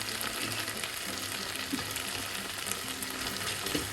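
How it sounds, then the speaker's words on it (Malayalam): Cumin powder frying in hot oil for a potato and okra mezhukkupuratti gives a steady, close crackling sizzle that holds even and continuous throughout, with no voices. "അത് ആ എണ്ണയിലൊന്ന് മൂക്കട്ടെ"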